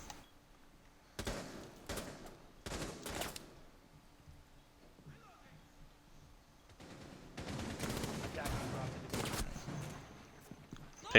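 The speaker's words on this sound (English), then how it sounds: "Pixel also gets the shots onto Lobster, taking out that Twitch" Bursts of rapid gunfire from the Rainbow Six Siege video game, played on Xbox One in a league match, come in short volleys separated by quieter gaps, with faint commentary in the background.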